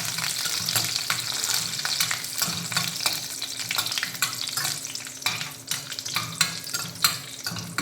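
Cashews frying in ghee for rava kesari, a steady bright sizzle with frequent stirring scrapes and clinks throughout, close and continuous with no talk.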